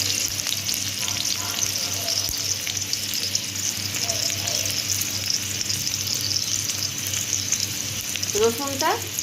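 Chopped garlic fries in oil for a flat bean dish, a continuous close sizzle with occasional stirring scrapes, and a brief voice near the end.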